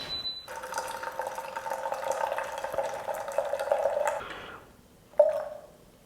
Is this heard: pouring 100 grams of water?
yes